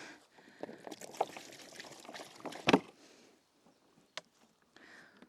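Water poured and splashing while whole dorado fish are rinsed outdoors, a few uneven trickling bursts with one louder splash partway through, then quiet with brief clinks.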